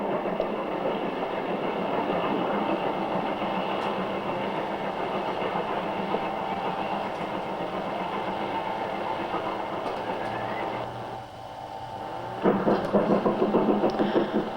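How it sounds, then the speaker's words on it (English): A branch train departing Shapwick station on the Highbridge to Evercreech Junction line in snowy winter rumbles steadily with rhythmic clattering of wheels on rails, briefly easing before the clanking picks up again near the end. "Branch train from Highbridge to Evercreech Junction leaves Shapwick"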